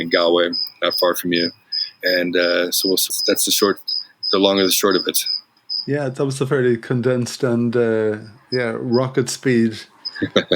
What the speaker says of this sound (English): I'm listening to the crickets chirping away in the background.